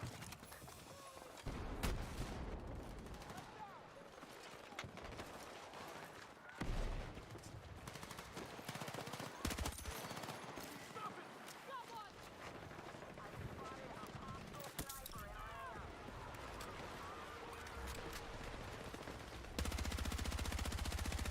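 Video game gunfire crackles through the smoke as repeated shots and bursts, fairly loud and near, with players talking over it throughout.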